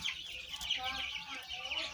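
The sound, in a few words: rooster clucking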